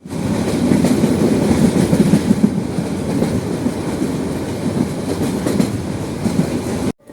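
A passenger train in Bangladesh rumbles along the rails during a journey to Sylhet, heard from inside as a loud, continuous roar with a rhythmic clatter of wheels, cutting off abruptly near the end.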